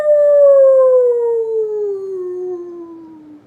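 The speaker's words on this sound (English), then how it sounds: "Oh, look, they're howling at the moon." A single long howl from wild creatures, loud and close, a clear sustained tone that slides slowly downward over about three and a half seconds before fading, heard alone without talk.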